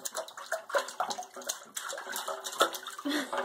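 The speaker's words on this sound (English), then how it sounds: "Yay, splashes! Yay, splashes!" A baby splashes in bathtub water, giving a run of short, close, irregular slaps and sloshes over about three seconds with no talk over them.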